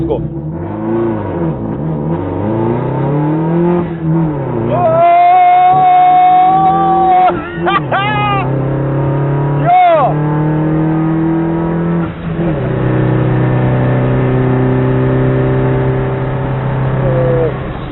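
A car revs and accelerates on the Kampala Entebbe expressway, its engine note rising and falling in long sweeps through the gears, heard from inside the cabin with people talking over it.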